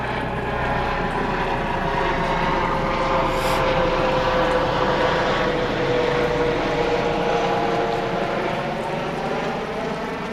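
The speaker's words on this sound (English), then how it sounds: "Oh, we got a helicopter going over." A steady loud engine drone with a rhythmic beating hum passes overhead, sustained without talk throughout.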